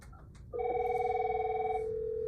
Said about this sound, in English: if you hear the phone ring, you have to look at the display